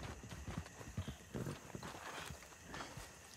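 Horse hooves gallop in the video game Red Dead Redemption 2, a fast, close clip-clop of repeated hoofbeats kept up throughout, with some voices faintly underneath.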